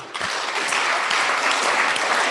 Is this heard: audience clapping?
yes